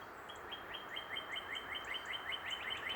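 Birds sing from trees behind a back porch, a quick run of bright, repeated chirps at a steady, lively pace, fairly close, over a low outdoor hum.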